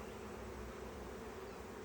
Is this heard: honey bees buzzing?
yes